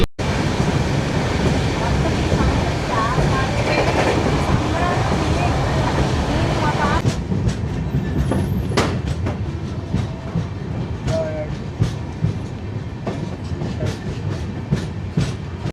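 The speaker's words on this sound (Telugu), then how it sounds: "ఈ ట్రైన్ వచ్చేసి చెర్లపల్లి నుండి అగర్తలా పోయే ట్రైన్ ఇది." A passenger train running from Cherlapalli to Agartala, heard from aboard near Nadikudi Junction: a loud steady rumble and clatter of wheels, then rhythmic clickety-clack over rail joints as the roar eases, with faint voices in the background.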